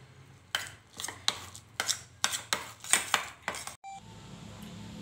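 A spoon beats salted butter and garlic together in a bowl, with about eight sharp scraping, clinking strokes in uneven rhythm, then a brief knock and quiet.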